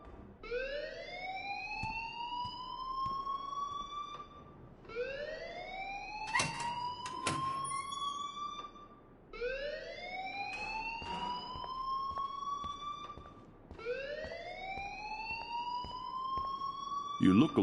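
A wailing electronic alarm in the Life is Strange video game, rising siren-like sweeps repeating about every four seconds, loud and continuous, with a few sharp clicks and knocks between the sweeps.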